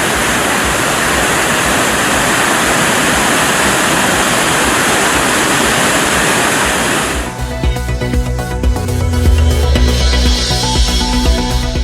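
Hogenakkal waterfall on the Kaveri river in high flow, a loud steady roar of rushing water filling the first seven seconds before giving way to a music-like tonal bed.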